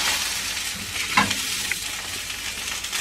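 Onions sizzle steadily in a hot pan while being stirred for a jus, with a couple of distinct scraping turns over the continuous frying hiss, close and fairly loud.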